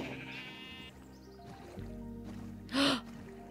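A Minecraft sheep gives a short, loud bleat near the end, over a quiet game soundscape with soft tones and low rumbles and no talk.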